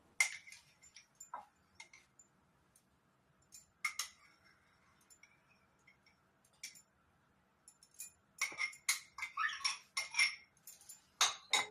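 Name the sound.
gond katira being put into a glass with a spoon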